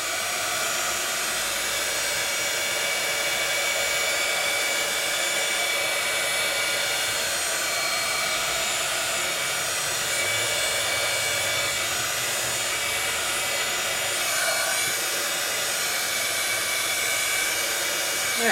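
A heat tool blows a loud, constant roar for a long stretch as it dries crackle paste from the back of a craft piece, with no pauses.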